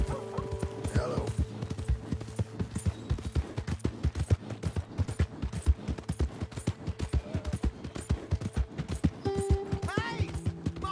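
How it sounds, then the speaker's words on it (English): Horse hooves clip-clop in a steady rhythmic trot in the video game Red Dead Redemption 2, close and fairly quiet, with brief game voices and a low hum underneath. "Hey! My horse!"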